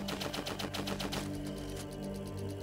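Gunfire in the game Edge of Space, shooting enemies through a wall, sounds as a fast, even rattle of clicky, typewriter-like shots that thin out partway through as a steady tonal hum continues underneath.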